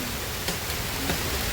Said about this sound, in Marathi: आता आम्ही बसलो तर इथे आणि पाऊस आला